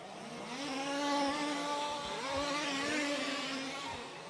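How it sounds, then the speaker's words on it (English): Large-scale off-road RC car engines race at a championship final, a loud buzzing two-stroke whine with shifting harmonic pitch that dips and rises again mid-run, one engine sounding slightly off. "Stu Wood's engine just sounds a bit off. Sounds a bit weird."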